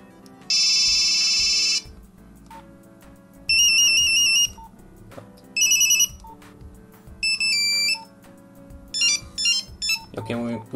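A Nokia 3330 mobile phone plays a series of short, shrill monophonic ringtone snippets through its loud little speaker, with bursts of beeping melody separated by gaps and quiet background noise.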